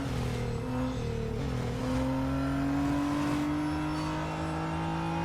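A Radical RXC race car's engine in Real Racing 3 revs and climbs through the gears, a continuous buzzing drone rising in pitch with a brief dip and shift, close and steady.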